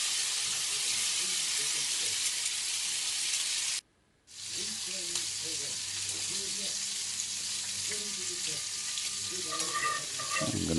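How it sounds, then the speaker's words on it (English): A roux cooking and being stirred in a pan, with a steady sizzling hiss that cuts out briefly, then returns alongside soft scraping stirs and a voice talking faintly in the background. "you'll continue to cook the roux"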